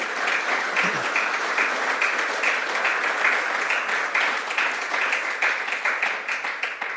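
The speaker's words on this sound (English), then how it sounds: "Please give them a round of applause." Sustained applause from a forum audience after closing remarks, dense overlapping clapping at an even loud level that tapers slightly near the end, no speech.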